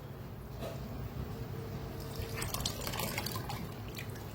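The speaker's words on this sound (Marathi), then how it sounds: "आता त्याचं पाणी काढून मिक्सरला लावून घ्यायचं आहे।" Water trickles and drips steadily as it is drained from soaked rice, a soft continuous splashing close by with a few brief louder spatters.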